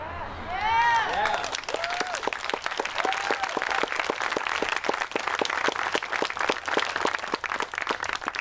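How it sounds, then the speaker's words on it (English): A crowd at a Black Lives Matter march in White Lake claps steadily and densely outdoors, the quick overlapping claps sustained throughout, with a few voices cheering near the start. "you are all clapping for yourselves right there, and you are clapping for each other"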